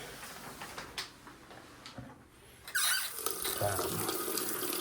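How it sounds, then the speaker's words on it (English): An old, mostly original bathroom faucet with weak water pressure, heard first as a faint trickle under low room noise, then the tap is opened further and a steady, louder rush of running water continues. "Doesn't seem like super great water pressure in the ones that I've tried."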